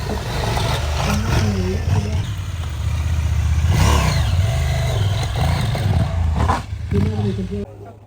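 Off-road motorcycle climbing back up a grass hill at an adventure bike festival, its engine droning and revving steadily for several seconds beneath a loud announcer voice and crowd noise.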